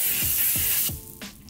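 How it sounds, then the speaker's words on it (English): Baking spray hisses from an aerosol can in several short, close bursts onto a hot pan being seasoned, each burst trailing off with a brief mechanical click from the nozzle. "We get it nice even coat. A baking spray on."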